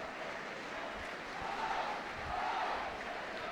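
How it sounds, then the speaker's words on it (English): Football fans at Dens Park for a Dundee versus Dunfermline First Division match make a steady, far-off crowd roar with swelling cheers and applause, a dense continuous wash of noise from the stands. "Dundee fans making a lot of noise now because the star striker is about to make way"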